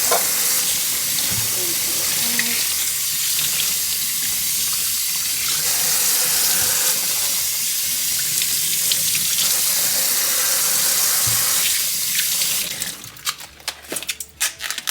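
Tap water runs steadily into a container being rinsed while making ginger juice, a continuous broadband rush for about twelve seconds, then breaking into splashy, uneven bursts as the flow is disturbed near the end.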